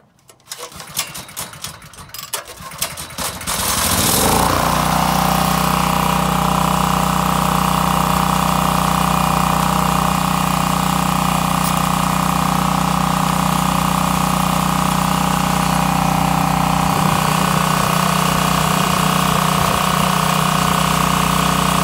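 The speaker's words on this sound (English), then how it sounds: "Let me get it fired up here." A portable generator that runs but produces no electricity is pulled into life: a few seconds of rattly cranking and sputter, then the engine catches and settles into a loud, steady, close running drone that continues to the end.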